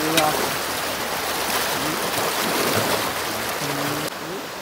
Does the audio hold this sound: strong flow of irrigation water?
yes